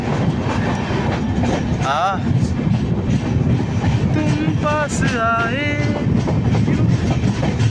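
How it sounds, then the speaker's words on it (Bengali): A train rolls along with a constant loud rumble and rhythmic clatter, high metallic squeals rising now and then, voices faint underneath. "তো এই যে আমরা এখন যাচ্ছি ট্রেনে"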